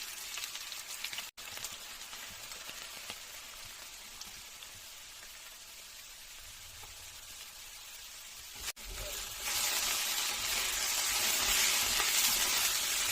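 Steady crackling sizzle of potatoes frying in a steel nonstick pan, continuous and close, growing louder and brighter toward the end.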